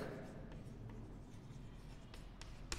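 Pen or chalk writing on a surface in a classroom anatomy lesson, a faint continuous scratchy stroking with a few sharper taps, heard under a steady low room hum.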